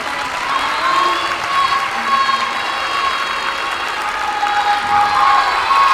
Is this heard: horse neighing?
no